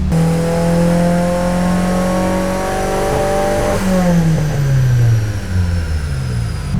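A car engine, an SR-Z, revs hard on a dyno during a fuel pull, a loud sustained rising drone that peaks and then falls away as the throttle closes, close and continuous.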